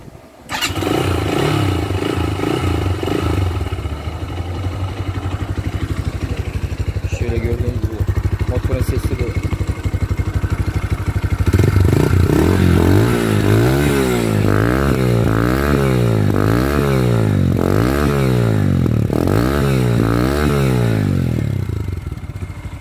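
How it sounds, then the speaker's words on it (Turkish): A 2018 Mondial Zone S 180 motorcycle engine cranks over and fires up, settling into a loud, close, throbbing single-cylinder exhaust idle with rhythmic revving pulses, and someone talks over it. "Çalıştırdık. Egzoz sesini duydunuz."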